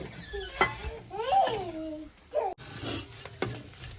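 Masala spices fry in a pan while aloo samosa filling is prepared, giving a soft, steady sizzle under someone talking throughout, with a few light clinks and stirring sounds.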